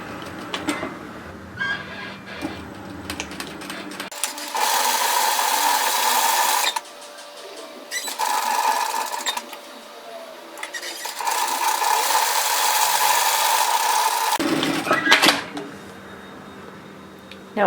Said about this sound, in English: What we're going to do is just sew down one side up to the point and back again.